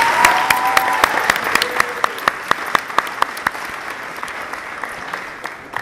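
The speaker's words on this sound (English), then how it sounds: "Another round of applause, please." Audience applause at a school 8th grade awards ceremony, steady clapping from a crowd with a few louder nearby claps standing out, easing slightly toward the end.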